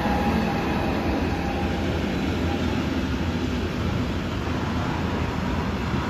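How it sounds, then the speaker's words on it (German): A Hector Rail locomotive hauls a train through a German station at Gießen, producing a loud, steady roar with rumbling wheel noise that holds constant throughout, with no speech. "Auf jeden Fall ist es eine Lok von Hector Rail."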